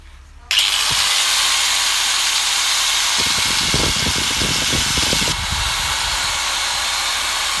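A PERFECT 4-inch electric angle grinder switches on abruptly and runs at a steady high whine, loud and close, with a brief rattle midway and a slight drop in pitch near the end.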